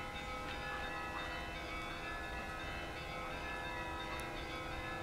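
Orthodox church bells ring steadily in the background of an uphill mountain-bike climb, a sustained layered metallic tone with dense overlapping peals and no voices.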